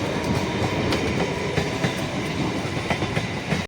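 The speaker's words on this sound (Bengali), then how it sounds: "এই ফরেস্টের পাশ দিয়ে এই ট্রেনগুলো যায়" Train rolling past the Ranaghat forest at close range, a loud continuous rumble with rhythmic clickety-clack of wheels on the rails throughout.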